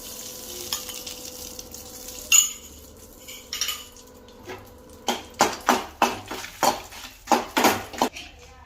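Soft sizzling of six chillies frying in a little oil, joined by a series of rhythmic scraping and clinking strokes from a utensil stirring in a pan.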